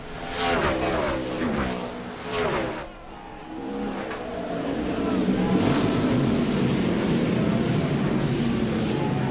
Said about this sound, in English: Look at the big jam there under the heavy braking.